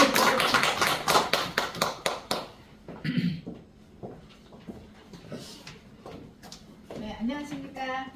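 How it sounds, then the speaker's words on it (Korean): A seminar audience at a nanum center in Incheon bursts into a short round of dense clapping. The applause fades after about two seconds, and a voice speaks over the quieter stretch that follows. "우리 국장님 나오실 때 큰 박수 부탁드립니다."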